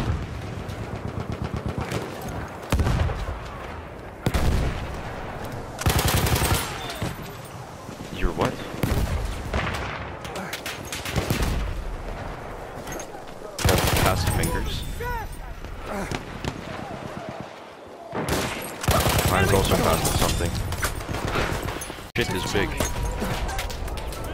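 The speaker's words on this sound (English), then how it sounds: "Enemy machine gun sighted!" Machine gun fire in the World War I shooter game Battlefield 1, dense repeated bursts of loud gunfire and explosions across a busy battlefield, with voices shouting over the chaos.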